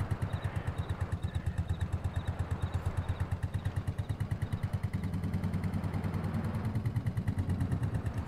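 A vintage Porsche tractor with a loose, bouncing front axle descends a slope in Farming Simulator 22. Its low engine thrums in a steady, close, rapid pulse throughout, with light clatter and no talk.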